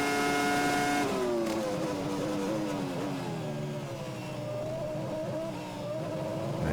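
A Formula 1 car screams through the fast corners at Suzuka, its high engine note steady and loud, then dipping and climbing in pitch as it shifts, with no talk over it.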